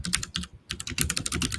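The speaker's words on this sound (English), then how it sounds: "Aram, your keyboard is loud in our ears" Loud computer keyboard typing on a call, rapid clattering keystrokes close to the microphone with a brief pause partway through, no voices.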